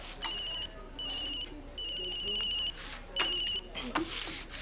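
A telephone rings in repeated electronic bursts, four rings with short gaps, close and clear, while people talk over the rings in a TV drama scene.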